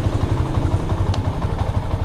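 A Yamaha MX King motorcycle engine idles close by as it warms up, a steady, loud, rapid low putter with light mechanical clatter.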